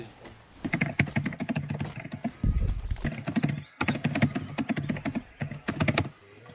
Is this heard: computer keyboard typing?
yes